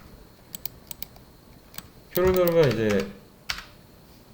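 Scattered single keystrokes click on a computer keyboard while working in the Unity editor, faint and sparse, with someone briefly speaking in the middle.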